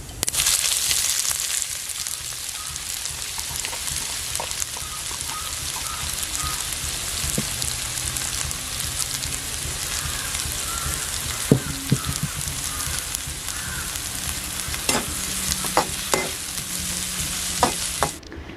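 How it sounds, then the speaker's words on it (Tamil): Chopped onions and green chilies sauté in oil in a pan, giving a steady close sizzle with occasional spoon scrapes and stirring clicks, no voices. "வெங்காயமும் பச்சை மிளகாயும் நல்லா வதங்கிட்டுருக்கு"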